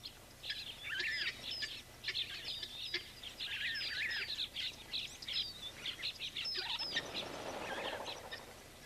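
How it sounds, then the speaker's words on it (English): Busy chirping and twittering of many doves at a waterhole, steady and moderately close, with a soft rustle or splash rising near the end. "The doves coming to drink at the waterhole face attack from below as well."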